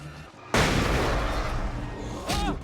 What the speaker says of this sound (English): I flashbanged you.